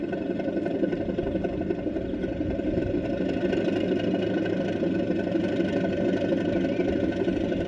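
Sound unit of a 5 inch gauge Class 37 diesel locomotive model under DCC control, a loud steady mid-pitched engine drone with a rough, knocking texture, running alone as the throttle is raised.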